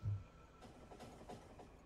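A train rolls along the tracks in the Factorio video game, faint steady rumbling with soft rhythmic clacks, quiet and with no voices.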